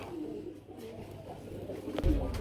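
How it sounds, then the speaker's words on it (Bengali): Racer pigeons of an uncommon colour coo softly in a wholesale pigeon market among caged birds, a low murmuring coo running under faint background noise with a brief louder thump near the end. "বন্ধুরা আমরা এখানে দেখতে পাচ্ছি একজন রেসার কবুতর চলে আসছে"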